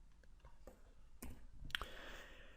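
A single mouse click on a computer OK button sounds close and quiet against a soft room background, with a couple of faint ticks around it.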